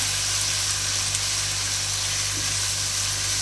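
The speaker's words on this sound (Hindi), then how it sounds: "अब हम ये तमाम चीज़ों को अच्छी तरह से भून लेंगे" Shimla gosht, meat with spices, fries in a pan with a constant loud sizzle and a low steady hum underneath, unbroken throughout with no talking.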